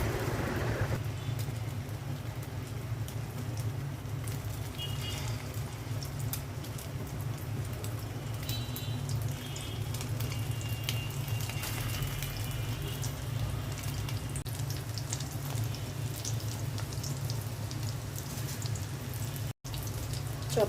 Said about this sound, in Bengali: চপগুলো আমি তেলের মধ্যে ছেড়ে দিচ্ছি।